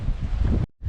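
Strong wind buffets the microphone outdoors at a tropical fishing spot, a loud continuous roar that cuts out abruptly near the end.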